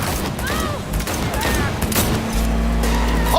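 Rapid gunfire from the Cyberpunk 2077 video game bursts out during a vehicle chase, with dense volleys over an engine rumble and shouting voices.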